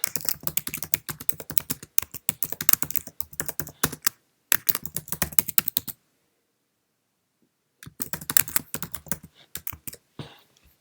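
Rapid clicking of keys on a Mac computer keyboard, typed close up in quick bursts with a brief silent pause midway before the typing resumes.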